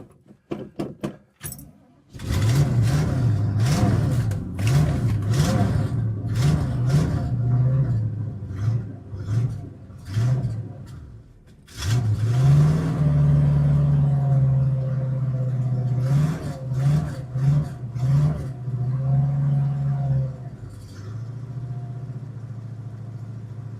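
A 1964½ Ford Mustang engine revs repeatedly in short bursts, then settles toward a steadier, uneven idle with a few more blips, close and loud throughout.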